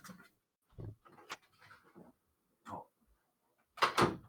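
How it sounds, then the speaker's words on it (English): A heavy dog runs up a flight of stairs indoors, making a handful of irregular thuds and scrabbling footfalls that end in a louder burst of close thumps near the top, with no talking. "it's the loud ass dog running up the stairs"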